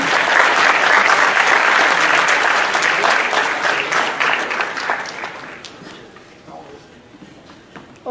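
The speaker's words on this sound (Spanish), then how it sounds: "la recibimos con un fuerte aplauso" An audience at an academic talk on traditional foods and malnutrition applauds a guest speaker: a loud, dense burst of clapping that gradually thins and fades out over several seconds before a voice begins at the very end.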